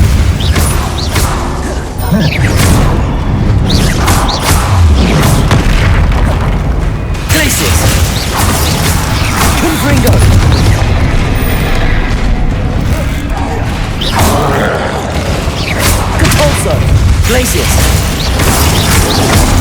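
Spell blasts such as Confringo and Glacius in Hogwarts Legacy go off in a run of loud, close booms and crashes with dense, busy combat noise in between, and a voice speaks over it.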